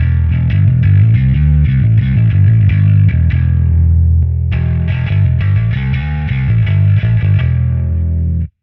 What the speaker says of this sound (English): sometimes you just gotta play some, you know, low E's with some distortion, and that's where the B7K comes in handy